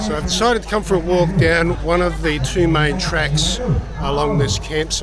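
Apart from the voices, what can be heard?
No everyday noise stands out behind the speech.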